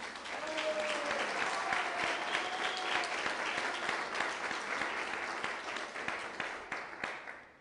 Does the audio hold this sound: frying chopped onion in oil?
no